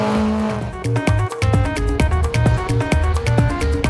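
A pre-1966 BMW TI touring race car under 2 litres, competing in a historic race meeting at the Algarve, drives past with a loud engine that rises and falls through several quick gear changes, a few tyre squeals briefly audible.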